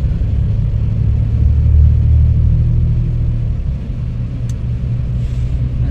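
Inside a Volvo B8R 9600 AC sleeper bus moving on a highway at night, a steady deep engine and road rumble drones continuously, with a brief high ping near the end.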